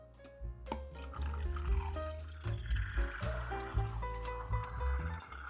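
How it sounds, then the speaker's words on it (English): Water poured from a kettle into Fellow Stagg XF and Kalita Wave coffee drippers, heard as close, bubbling gurgles and sloshing with rising, wavering tones as the drippers fill. "I'm trying to pour in, and let's find out which one the flow rate is the faster."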